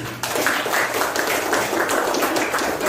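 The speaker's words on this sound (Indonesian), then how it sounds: "tepuk tangan untuk Ain" A classroom of students claps steadily for a classmate named Ain, a dense, continuous patter of many hands filling the room with no speech over it.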